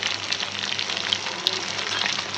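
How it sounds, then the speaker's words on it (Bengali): Chicken pieces frying in oil for biryani, a steady dense sizzle with small crackles and pops running throughout, close and even in level. "দেখেন আমাদের মুরগিগুলো খুব সুন্দর করে ভাজা হয়ে গেছে।"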